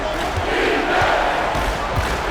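A packed arena crowd in the NBA 2K25 video game roars after a hard dunk during Finals Game 1 with the Miami Heat, a steady, loud wash of cheering that swells slightly mid-way and never breaks.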